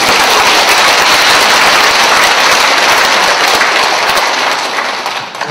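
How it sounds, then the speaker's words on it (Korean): A lecture audience at a Catholic spirituality talk bursts into dense, loud, sustained applause that tapers off at the very end. "박수를 쳐드리세요."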